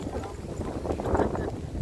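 Wind buffets the microphone in a steady low rumble, gusting a little stronger midway, with faint ambient noise around it.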